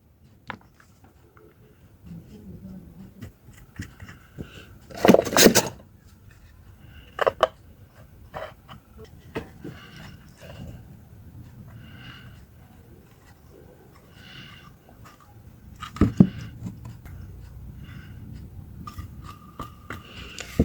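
Scissors snipping at the frayed end of a wire while building a homemade grinding machine, a few short dry cuts and rasping scrapes, close and moderately loud, against quiet handling noise.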